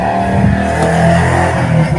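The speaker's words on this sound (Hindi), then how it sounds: "ये जो बाइक की आवाज आई" A motorbike rides past nearby, its engine a loud, steady roar that fills the whole moment without letting up. No voices are heard over it.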